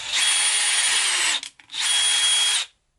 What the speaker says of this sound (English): I'm going to line everything up as best I can and drill some holes